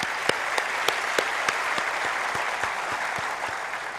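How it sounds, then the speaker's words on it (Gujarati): An audience claps for a sister-in-law at a motivational talk, a steady dense wash of applause with a few sharper individual claps standing out, sustained and fairly close throughout. "આ ભાભી માટે એક જોરદાર તાળીઓ પાડો"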